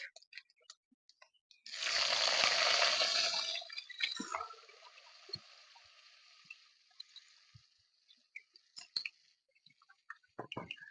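Chopped onions and Bengali five-spice seeds tipped into hot oil erupt in a loud burst of sizzling that fades within a couple of seconds to a quieter, crackling fry with scattered pops and clicks.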